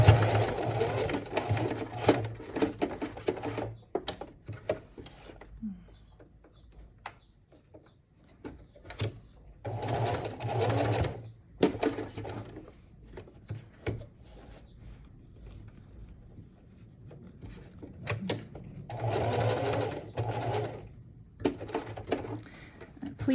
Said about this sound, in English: in the fabric, and then sewing it closed right here